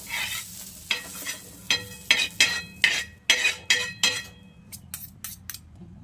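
Fried onion and coriander being stirred in a pan: a series of distinct scraping, clinking strokes of a spoon against metal, roughly a dozen in irregular rhythm, close and clear over a soft sizzle, with no talking.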